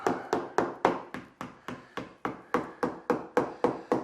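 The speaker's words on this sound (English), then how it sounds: "Well, where's my little hammer?" A small hammer taps wood in a steady, even rhythm, about fourteen crisp strikes, close and moderately loud, with nothing else heard.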